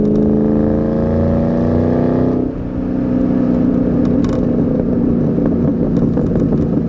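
A 2003 Ford SVT Cobra, 10th Anniversary with 30K miles on its original supercharged motor, pulls hard on a test drive, its rising supercharger whine and engine note climbing steadily before a shift, then droning on loud and close.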